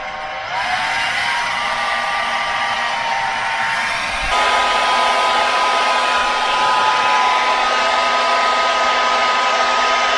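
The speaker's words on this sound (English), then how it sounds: "I'm dried it out pretty quickly with the hair dryer there" A hair dryer runs loud and steady throughout, drying out condensation in a cold-weather living space; its pitch and force shift partway through as the setting changes.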